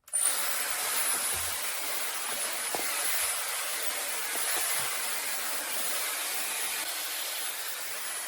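A Dyson Airwrap hair styler running on low speed makes a steady, airy hiss with a faint high whine, close and continuous throughout, with occasional soft knocks as it is handled.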